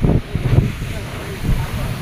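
Gusty wind buffets the microphone with low rumbling bursts, loud and close, rising and easing over two seconds.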